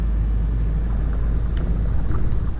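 A spaceship's fuel engine lifting off in the video game Affordable Space Adventures, heard as a steady, loud low rumble with a broadband roar that holds unbroken through the clip, with no voices.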